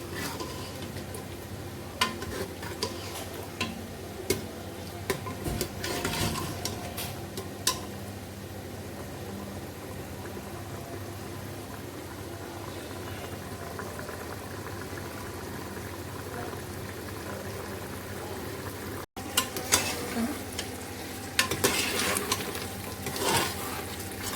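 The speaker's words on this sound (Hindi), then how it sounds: "ये अब भून रहा है।" Meat and oil for tinda gosht fry in a pan, a soft steady sizzle with scattered clicks and scrapes of a stirring spoon against the metal, close and moderately quiet with no talk.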